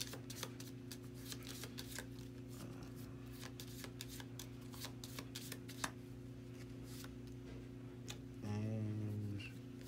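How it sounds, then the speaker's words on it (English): Playing cards from a Marvel Champions deck being shuffled by hand, a run of quick crisp riffling clicks and flicks heard close over a low steady hum, with a brief voice near the end. "I will shuffle a Magic Blast back."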